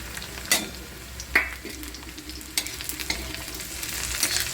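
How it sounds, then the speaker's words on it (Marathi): Green chilies frying with half-cooked onion in a pan for Maharashtrian pitla, with a soft continuous sizzle broken by a few sharp scrape-and-stir clacks of a spoon, close and without speech. "कांदा अर्धा थोडा भाजत आला आहे त्यामध्ये आपण आता मिरच्या टाकत आहोत"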